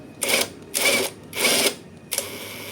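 A drill bores through thin metal on a Motorstar Easyride 150FI motorcycle to fit a plate. Three short whirring bursts come in a steady rhythm, then a fourth starts, all loud and close.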